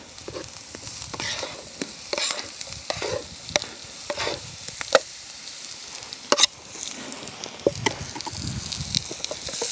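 Rutabagas frying in a pan for a low-carb corned beef hash, with steady sizzling under repeated stirring and scraping, plus occasional sharper clicks of a utensil against the pan, close and moderately loud.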